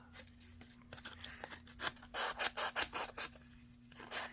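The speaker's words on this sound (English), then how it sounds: "Not much down here to sand off, but there's still some." Sandpaper rubbed along the edge of packaging-made paper ephemera, a dry rasping scrape repeated in quick strokes, close and alone, with brief pauses between bursts.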